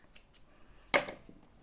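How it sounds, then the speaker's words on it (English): Scissors snip through a tail of crochet yarn, one crisp close cut with a slight metallic ring, preceded by two faint blade clicks and a soft tick afterward, quiet room, no talk. "grab your scissors and cut a tail long enough to weave in"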